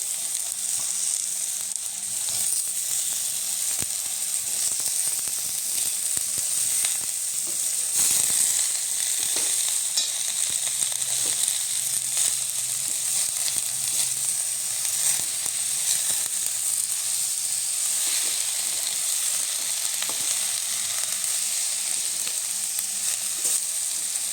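Chopped ambadi greens fry in a hot pan, giving a loud, steady hiss that runs throughout, broken by occasional soft stirring scrapes, with no talking.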